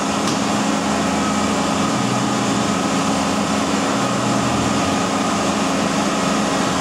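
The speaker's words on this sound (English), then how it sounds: "we'll turn on the engine and get the AC pump going" A car engine idles steadily with the whirring hum of the air conditioning compressor running during an A/C recharge, a constant, even mechanical drone with no voices.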